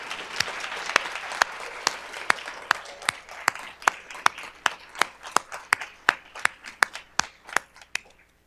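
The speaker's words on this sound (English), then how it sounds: "And for that, you applaud each other." Nursing graduates at a college summer pinning ceremony clap for one another, a small group giving a scattered, fairly sparse run of claps with some loud, close individual hand strikes over a soft murmur.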